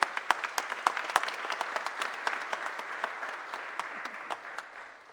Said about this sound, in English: Give a round of applause for Richard Vague